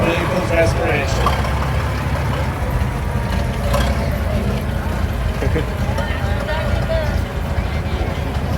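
A restored 1924 American Type 38 fire engine runs at a steady idle-like rumble during a fire department anniversary parade, a close, continuous low engine drone under nearly constant talk and crowd noise.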